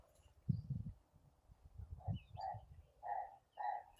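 Faint bird calls outdoors: a few short, tonal cries repeat in the second half over quiet background rumble.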